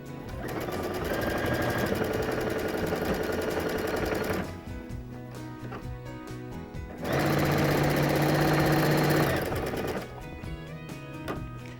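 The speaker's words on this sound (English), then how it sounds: "So we just set it under the needle right here, drop the needle in position, line up the edges, and just sew." A sewing machine stitching a quilt block seam, two close bursts of rapid steady needle chatter separated by a pause with quieter clicks and handling noise.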